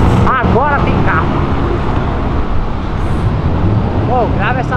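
A car rushes past close by with a loud, steady roar of road noise, birds chirping faintly in the background.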